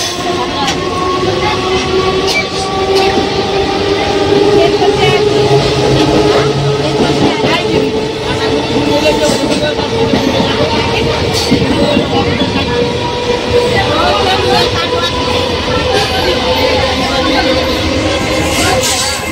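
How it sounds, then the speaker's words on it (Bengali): A train rolls into a busy railway station with a loud, continuous rumble and screeching wheel tones while people talk and chatter nearby. "ট্রেনও ঢুকে গেছে।"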